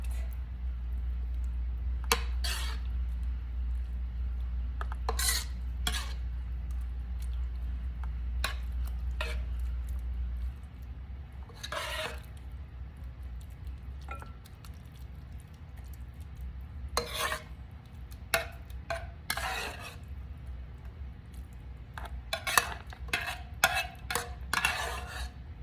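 Spoon spreading a layer of cooked rice in a pan for rice lasagne alla norma, soft intermittent scraping and tapping strokes against the pan, close and quiet, with a low hum fading out early.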